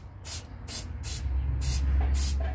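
A spray paint can sprays paint onto a recycled lamp in five short, even bursts of hiss, close by, with a low background hum.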